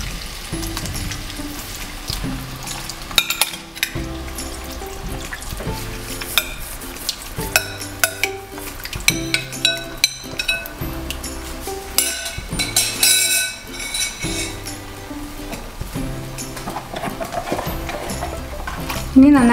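Chicken pieces are stirred into a tomato masala for a coconut-milk chicken curry, producing loud, continuous frying sizzle with repeated scraping and clattering of the spoon against the pan, and a voice talking over it at times.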